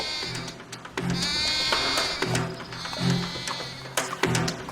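Repeated drawn-out bleating from an animated goat, loud and near, the wavering cries following one another almost without pause and with no voices.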